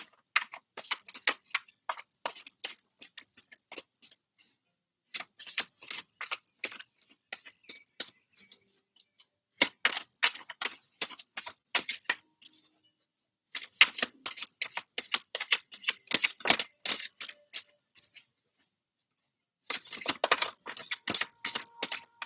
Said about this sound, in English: Let's get a good shuffle in for you